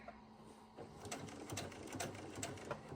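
A home sewing machine stitches a seam on wide-leg pants in a steady, quiet mechanical whir with faint rhythmic ticking, alone and close.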